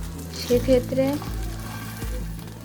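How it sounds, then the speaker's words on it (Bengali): A spiced fish fry cooks slowly in oil over low heat, giving a soft, steady sizzle with a couple of faint knocks during a brief moment. "চুলোর আঁচটা কমিয়ে দীর্ঘ সময় নিয়ে মাছটা আমাদের ভাজতে হবে।"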